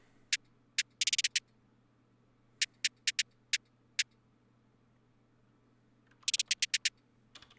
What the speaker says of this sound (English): And here is like the other snare, which goes a little harder.